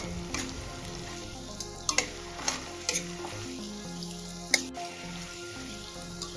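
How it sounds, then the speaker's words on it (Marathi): Finely chopped tomatoes sauté in a pan for street-style masala Maggi, giving a soft sizzle with several sharp spoon clinks and scrapes against the pan and a steady hum underneath. "आता यामध्ये आपण बारीक कट केलेले टोमॅटो ऍड करून घेऊया टोमॅटो पण छान सॉफ्ट करून घ्यायचे आहे"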